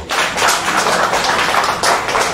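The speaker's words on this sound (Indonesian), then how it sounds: "Tepuk tangan untuk Mas Dewo" An audience claps steadily for Mas Dewo at a public cultural talk, a dense, loud burst of many hands lasting a couple of seconds and heard alone without talk.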